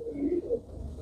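Pigeons in a large fancy pigeon loft give a soft, close cooing call, a low throaty warble that rises and falls over about a second, with faint rustling beneath.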